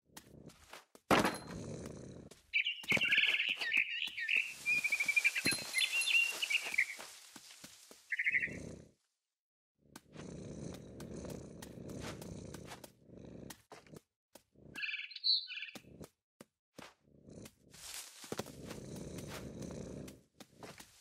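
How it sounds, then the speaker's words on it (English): Bright bird chirps and trills in the video game What Remains of Edith Finch come in bursts, alternating with a cat's low soft purring rumble and quiet gaps. "Then I heard chirping outside my window."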